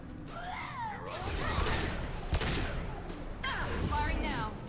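Gunfire in Mass Effect 2 comes as bursts of shots and impacts. They are broken up by swooping weapon effects and sit among busy combat noise at moderate loudness.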